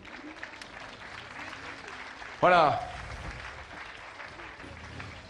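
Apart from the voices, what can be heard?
crowd applause at Le Mans parade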